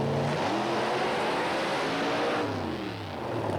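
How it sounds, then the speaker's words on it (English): A Camaro drag car with a big 500 cubic inch iron-block Chevy engine doing a dry burnout at a 1987 drag race, loud sustained engine roar with shifting pitch throughout. "Now watch the Camaro on the dry burnout."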